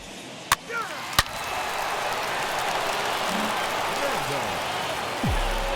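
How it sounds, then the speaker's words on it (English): Rain pours down during a baseball game in MLB The Show 21 as a steady, even hiss, broken early by two sharp knocks and a low thud near the end. "the rain's coming down pretty"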